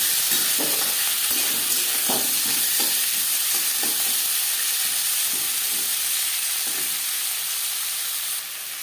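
Onion, tomato and garlic fry lightly in a pan with a bay leaf, a steady hiss of sizzling oil running throughout with soft scrapes of stirring near the start, no voices.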